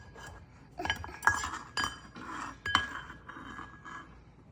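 Keto brownie batter being mixed in a glass bowl: irregular clinks and scrapes of a utensil against glass, with several sharp taps standing out over softer stirring noise, close and alone.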